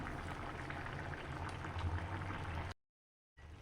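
A pan of prawn roast curry bubbling steadily on the stove, a dense, continuous simmering hiss with low burbling, broken by a brief silence near the end before the bubbling resumes.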